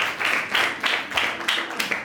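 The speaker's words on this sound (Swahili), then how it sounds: "Makofi kwa wakati wanakwenda kuketi" Applause at a school spelling bee competition, steady pattering clapping from the audience as contestants walk to their seats, continuing briefly without voices.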